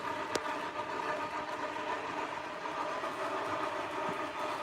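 An Amtrak model train runs along the main line of a layout, giving a faint, steady mechanical hum and rattle with a short sharp tick near the start.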